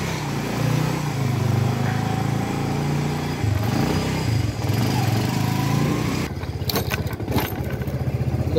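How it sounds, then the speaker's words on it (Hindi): A motorcycle engine idles loudly close by at night with a continuous putter, shifting to a choppier, pulsing rhythm toward the end. "बाइक स्टार्ट कर ली है मैंने।"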